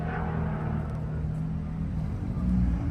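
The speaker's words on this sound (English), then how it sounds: "the Dodge Viper ACR. It's probably loud" The V10 engine of a Dodge Viper ACR idles and revs nearby with a low rumble, a deep throaty drone that swells slightly toward the end.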